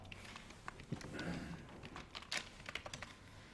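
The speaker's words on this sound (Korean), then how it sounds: "키보드에다가 우리 A101이라고 써줄 거예요." Several quick, soft key clicks on a computer keyboard during an Excel lesson as a cell entry is typed in, heard up close in a quiet room with a faint hum beneath.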